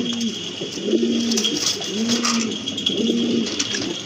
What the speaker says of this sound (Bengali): এটা কিন্তু হচ্ছে আপনার রেড ইন্ডিগো কালারের ভিতরে খুবই সুন্দর এক জোড়া কবুতর